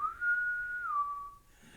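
A human voice imitates the whistle of an old galleon ship, a single steady whistled tone lasting under two seconds that dips slightly in pitch toward the end.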